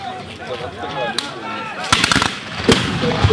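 Historical muskets fire during a reenactment of the 1813 Battle of Dennewitz, sharp reports cracking out at scattered moments over a busy outdoor din, with a couple of louder close shots.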